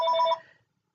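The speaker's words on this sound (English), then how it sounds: "that was my phone. That was my home phone." A home telephone bell rings in one short electronic trill burst that cuts off and fades within a second, close and clear with no voices.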